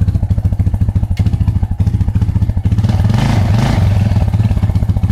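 A TGB Blade 525 ATV engine runs at light throttle while hauling logs, a loud, steady, close mid-pitched drone with a rattling clatter that swells and climbs as the revs rise partway through.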